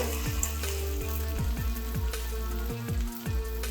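Urad dal vada batter frying in oil gives a steady close sizzle, with small bubbling pops and a low repeating hum beneath.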